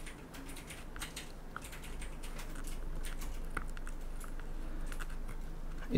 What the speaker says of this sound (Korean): 일단 제가 손톱으로 밀어내서 뜯고 있는데